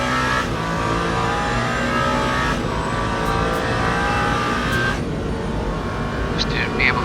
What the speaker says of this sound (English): just to be able to brake a little bit more and slow the car down